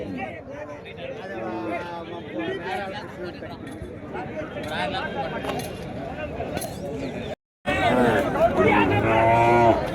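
Cattle and calves moo amid the busy chatter of a crowd at an outdoor livestock market, with voices talking throughout and brief cut near the end.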